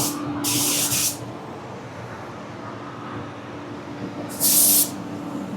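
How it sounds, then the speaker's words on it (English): Two bursts of loud, steady hiss from a spray gun applying clear coat, about half a second each, separated by a few seconds of quiet room noise. "I'm gonna spray the second coat here"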